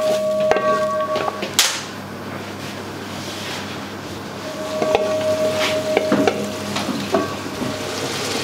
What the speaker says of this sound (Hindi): इसको मटन को हम अच्छी तरीके से भूनेंगे इसके अंदर